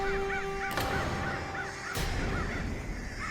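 Crows caw in short repeated harsh calls over a constant hot-weather background hiss, with a couple of sharp broadband thumps cutting through.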